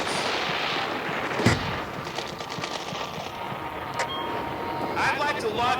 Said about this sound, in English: Who needs therapy when you have explosions like this?